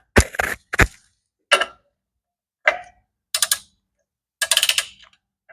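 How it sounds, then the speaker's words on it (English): A torque wrench tightens a Nissan 200SX clutch pressure plate's bolts in a crisscross pattern, producing separated bursts of sharp ratcheting clicks with quiet gaps between them, close and clear. "I should probably have a smaller torque wrench for something like this"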